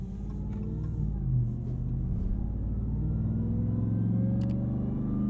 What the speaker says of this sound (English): You can really isolate that supercharger whine by playing around with the rev range, playing around with the throttle inputs.